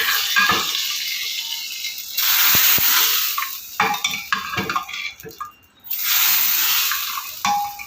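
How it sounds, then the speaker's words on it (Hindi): Dal tadka sizzles in a pan in a home kitchen, with bursts of hissing and crackling broken by clinks and scrapes of utensils, fairly close and without talk. "ये रहा दाल का तड़का।"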